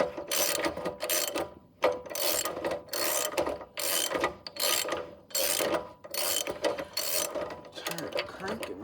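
A Honda GX160 small engine cranked by hand over and over: a series of rough, rasping pull-start strokes with short pauses between them, close and fairly loud, with no voices.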